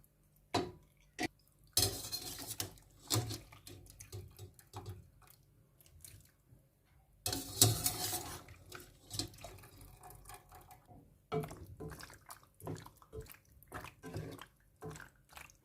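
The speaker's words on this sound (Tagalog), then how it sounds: "now let's combine the rigatoni with sauce" Rigatoni is stirred into a cauliflower and almond sauce in a pan, giving repeated wet squelches and utensil scrapes and clinks against the pan in irregular bursts, fairly close and quiet.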